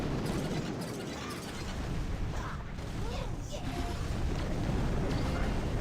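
Fireworks crab explosions from the mobile strategy game Boom Beach form dense, continuous popping bursts and mechanical clatter, with a voice talking over the game sound throughout.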